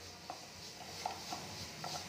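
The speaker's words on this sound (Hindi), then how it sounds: "मैदे को अंडे के साथ ही मिक्स करेंगे।" Flour is stirred into eggs in a bowl, quiet wet squelching and a few light clinks of the spoon against the side, close and faint with no voices.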